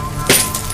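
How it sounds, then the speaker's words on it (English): Glass breaks somewhere in an abandoned building at night: a single sharp crash with bright clinking, fairly loud against a low background hum. "we heard broken glass"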